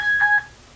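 A telephone dialing tone sounds from a toy phone: one short, clean keypad beep, loud and alone, then quiet.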